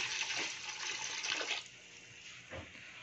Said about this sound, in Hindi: इसको गलाने के लिए हम मज़ीद इसमें पानी ऐड करेंगे